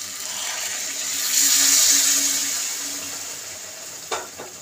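Boiled hot water poured into a pan of frying potatoes for a sweet-shop style potato curry, giving a loud hissing sizzle that swells and fades over a few seconds, with a couple of sharp utensil knocks near the end.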